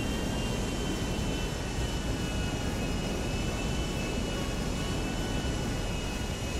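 A large airplane cruising in a flight-training mode of a video game gives off a steady, unbroken engine drone with a faint high whine, holding the same loudness throughout with no talk.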